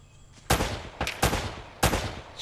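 Four sharp gunshots in the video game Uncharted: Drake's Fortune, each a loud cracking blast with a short decaying tail, spaced unevenly over a couple of seconds.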